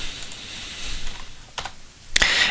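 A few separate computer keyboard keystrokes, sharp and close, spaced apart over a quiet room hiss while setting up a Maya 3D scene.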